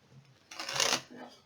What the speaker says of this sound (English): So I'm just going to give them a quick shuffle.